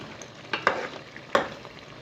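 Ground tomato paste goes into a pan of masala fish curry, giving a soft continuous sizzle broken by three sharp stirring scrapes against the pan, close and moderately loud.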